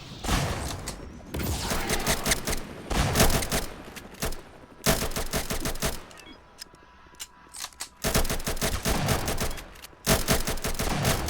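Rapid bursts of gunfire in the Roblox game Mad City, loud repeated volleys with short gaps between them, running through the whole stretch with no speech.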